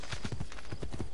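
Horse hooves clip-clop at an even trotting rhythm in the video game Assassin's Creed 2, close and fairly quiet, about six or seven steps with no speech over them.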